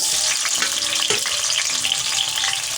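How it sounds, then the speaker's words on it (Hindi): Chopped tomatoes, two medium ones, sizzle and fry steadily in hot oil in a pan for dhaba-style chana dal, a continuous loud hiss with a few soft stirring scrapes and no talking. "टमाटर मैंने डाल दिए।"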